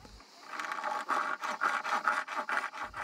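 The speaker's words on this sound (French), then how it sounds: "Une fois l'objet bien maintenu, je peux en scier une partie." A hand saw works back and forth through a piece of bone held by a Roman bone craftsman, giving steady rasping strokes about twice a second, moderately close and with no talking.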